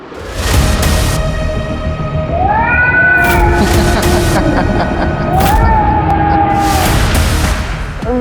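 A cat meows several times, drawn-out rising cries standing out over a busy, loud background with thumps and other noise.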